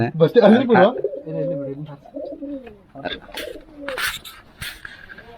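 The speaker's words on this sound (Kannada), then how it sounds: "ಗಣೇಶ ಪಾರಿವಾಳ ಹರ್ತಾ ಇದೆ" At an outdoor bike rally in Yallapur, a pigeon gives soft, rolling coos mixed with nearby voices, followed by scattered bursts of crowd noise.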